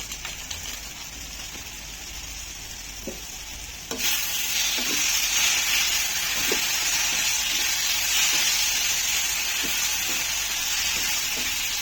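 Garam masala going into an egg curry in a pan, a steady loud sizzle of hot oil that jumps up sharply partway through, with occasional soft scraping stirs beneath.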